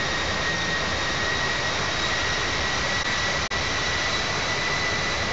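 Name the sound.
jet airliner engine in Infinite Flight video game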